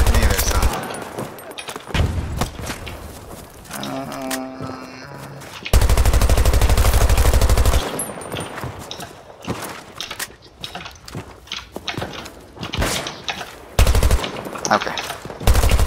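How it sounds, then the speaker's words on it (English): Heavy machine-gun fire in the shooter game Battlefield 2042, with long sustained loud bursts and scattered shorter volleys among game sounds and occasional speech. "Better to stay still while shooting"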